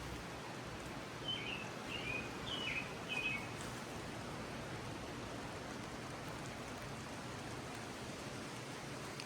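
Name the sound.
sparrows chirping outdoors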